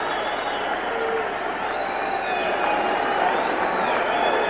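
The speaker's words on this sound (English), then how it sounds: "Now you begin to hear the crowd." Crowd noise in a boxing arena before a Muhammad Ali fight, a steady, fairly loud wash of many voices murmuring and calling out, with faint whistles and shouts rising through it for the whole stretch.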